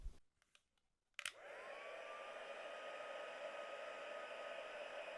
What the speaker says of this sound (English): I'm going to dry that off with the heat gun and then move on to the main brick.